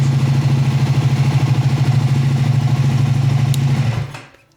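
A 2025 Triumph Scrambler 400 X motorcycle engine idles with a fast, steady putter, loud and close, then cuts out and fades just before the end.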